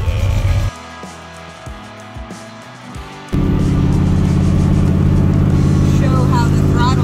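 A 1971 Chevrolet El Camino engine idles low and rough, then the throttle is opened and it revs up into a loud, sustained roar that holds to the end, with no talk over it.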